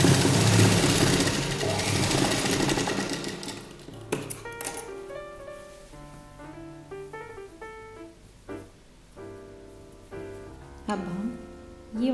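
A sewing machine runs in a dense, steady whir of stitching on a boat neck kurta, then breaks into shorter stop-start bursts with pauses and handling clicks, with some speech in the mix.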